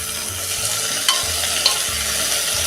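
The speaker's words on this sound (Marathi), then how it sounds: "भाज्या मऊ होईपर्यंत परतून घेऊया" Brinjal, potato, tomato and bottle gourd sauté in a pan for a millet khichdi, giving a soft continuous sizzle with occasional faint stirring scrapes and two light clinks, close by and without speech.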